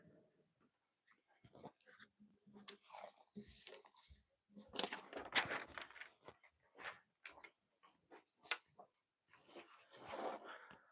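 A sharpened Yojimbo 2 knife slices through a sheet of paper in quick scratchy bursts, close and crisp, separated by short pauses.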